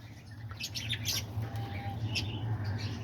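Aviary birds, including diamond doves, give soft chirps and tweets in a steady chorus over a low hum, fairly quiet and without any voices.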